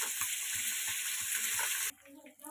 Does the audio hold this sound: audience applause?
no